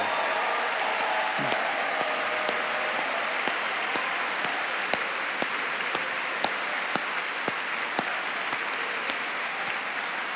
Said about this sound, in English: Please give them a huge round of applause for everything they do